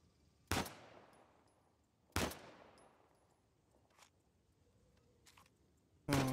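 Gunshots fired at a herd in the video game Uncharted 4: two loud, sharp reports about two seconds apart, each trailing off in a long echo, then fainter thuds and another burst at the end.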